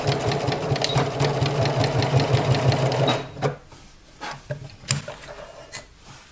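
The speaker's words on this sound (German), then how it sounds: "dort nähe ich mit ein paar Stichen" Sewing machine stitching a dart fold on outdoor trousers, a steady rapid mechanical whir for about three seconds that stops abruptly, followed by a few faint clicks and handling sounds.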